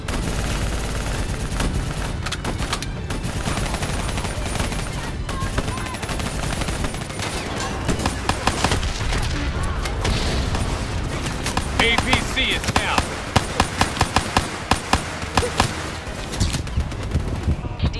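Sustained automatic gunfire aimed at a VTOL aircraft in the Call of Duty: Black Ops III shooter, loud and dense bursts with rapid, overlapping shots over a rumbling battle background and voices.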